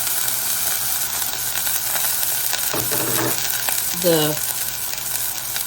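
Garlic and ginger sizzle steadily in a little olive oil in a pan, a constant close frying hiss with a few brief stirring scrapes and a short clink, and a single word spoken over it.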